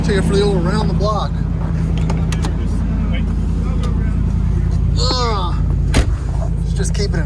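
The engine of a 1988 Range Rover Classic rumbles steadily at low pitch during a drive, close and continuous, with people talking over it.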